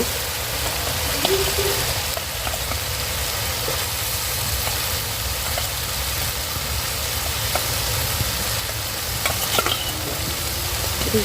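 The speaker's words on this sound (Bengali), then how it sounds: "ভেজে বসানো হয়ে গেছে মশলার উপরে আমি মাছগুলো দিয়ে দেব" Fish fries over spices in a pan with a loud, steady close-up sizzle and crackle that runs unbroken throughout, and no one speaks.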